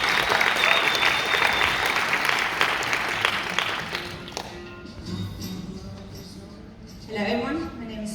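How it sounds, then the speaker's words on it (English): Audience applause at the Barcelona EU-Startups Summit, a dense wash of clapping that thins out midway as a voice begins speaking over the hall. "Big round of applause."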